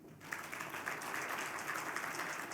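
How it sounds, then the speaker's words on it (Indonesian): Audience at a dialogue forum's closing remarks breaking into sustained applause that swells after a brief quiet start and continues as an even, distant-sounding wash of clapping. "boleh tepuk tangan"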